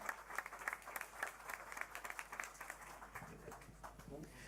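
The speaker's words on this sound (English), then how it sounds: "Big round of applause for Lyle Shelton." An audience applauds a Senate candidate at an election debate, a faint, steady patter of many hands with a spoken voice mixed in underneath.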